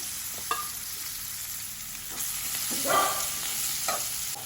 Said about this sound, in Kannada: ಈಗ ಇದಕ್ಕೆ ಹೆಚ್ಚಿಟ್ಕೊಂಡಿರುವಂತಹ ಕ್ಯಾಪ್ಸಿಕಮ್ಮನ್ನು ಸೇರಿಸ್ಕೊಳ್ತಾ ಇದ್ದೇನೆ